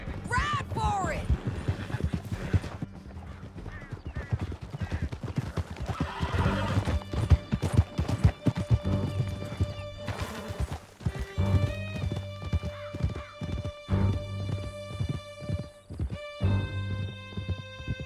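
Horses gallop in the Red Dead Redemption 2 video game with rapid rhythmic hoofbeats, loud whinnies and neighs, under a swelling orchestral score with sustained tones later on, while riders shout and talk over the action.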